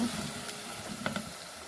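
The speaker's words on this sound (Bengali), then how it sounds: "এটার মধ্যে দিয়ে দিচ্ছি পেঁয়াজের পেস্টটা দিয়ে আবার খুব ভালোভাবে কষিয়ে নেব" Onion paste and garlic fry in a pan with a short burst of sizzle, plus a couple of light clicks as it is stirred.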